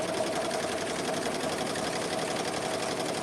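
A BAI 15-needle embroidery machine stitching an applique runs in a steady, fast mechanical chatter with a continuous hum, close and constant throughout without any talking.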